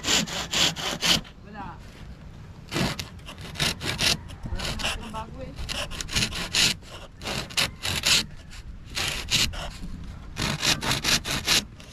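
Someone saws wood by hand with rhythmic back-and-forth strokes, loud and close, pausing briefly between bursts.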